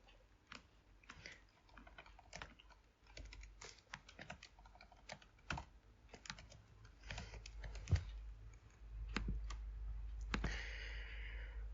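Commands typed on a computer keyboard: quiet, close, irregular runs of key clicks and taps with brief pauses and a few heavier keystrokes, alone without speech.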